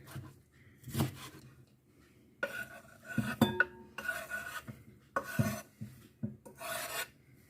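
A knife dices beetroot into small cubes for a salad, giving close, rasping cutting strokes that come in several short bursts with pauses between, and no talking.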